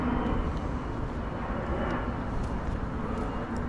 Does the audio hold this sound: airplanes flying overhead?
yes